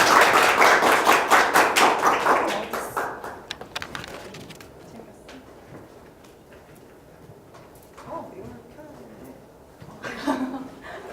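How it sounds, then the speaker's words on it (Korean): An audience applauds at a Korean big data course final project presentation, a loud burst of dense clapping that fades after a few seconds, followed by quiet room sounds and brief talk. "박수 한번 쳐주세요."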